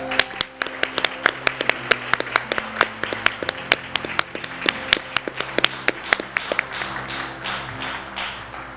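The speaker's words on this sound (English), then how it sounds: "Let's give the choirs another round of applause, everyone." An audience at a Los Angeles commemoration service applauds the choirs, with many sharp individual claps over a busy background, thinning out toward the end.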